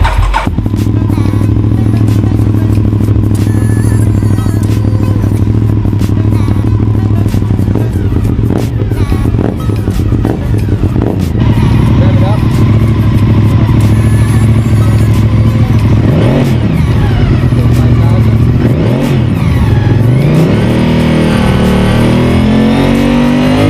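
A motorcycle engine idling steadily during a charging system test in a workshop, a loud continuous low hum that rises and falls as the throttle is blipped in the second half.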